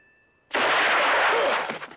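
A single loud gunshot in a 1960s spaghetti western film, a broad blast that rings on for over a second before fading, with no talk over it.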